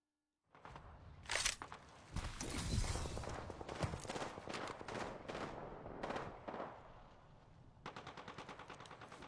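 Weapon hip-fired in the Apex Legends video game: rapid bursts of loud automatic gunfire that stop and start repeatedly, with brief gaps and a fast rattling burst at the end, and no talking over it.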